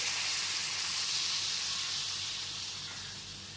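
Ground spices with turmeric sizzle in a pan as a little water is added, a steady, close hiss that fades slightly toward the end.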